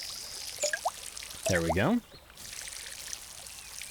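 Water pours onto eggplant plants from a watering can in the Garden Sim game, a short trickling splash under a man's brief spoken remark, with faint background music.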